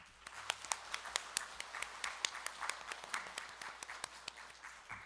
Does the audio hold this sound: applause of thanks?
yes